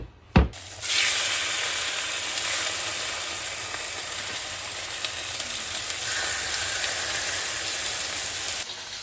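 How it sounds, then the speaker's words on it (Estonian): Thin pieces frying in a very hot pan, giving a steady, bright sizzle that starts after a sharp clatter, holds evenly for several seconds and cuts off near the end, with no talking. "Ärge kartke panni kuumaks ajada, kui midagi on vaja lühikest aega küpsetada ja pruunistada."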